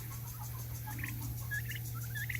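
Turkey poults let out to free range for the evening make short, high gobbling calls in scattered bursts over a steady low hum, fairly near and moderately quiet, with no talking.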